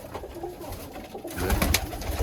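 Pakistani pigeon cooing in a cold outdoor setting among other pigeons, soft repeated coos over steady background noise, growing louder and busier partway through with bright rustling sounds.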